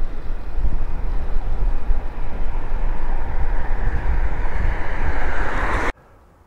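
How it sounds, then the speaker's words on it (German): Wind rushes hard against a microphone on a bike ride through hilly countryside, a loud continuous roaring buffet for about six seconds that cuts off abruptly to near silence. "Bei mir rauscht es im Moment ganz ordentlich in den Ohren vom Wind."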